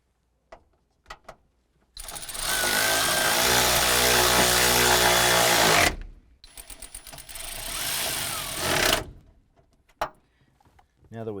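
A power tool snugs down the rear strut nuts on a 2008-2012 Honda Accord in two loud whirring bursts, a sustained run of about four seconds followed by a shorter, rougher burst, with clicks and handling noises between.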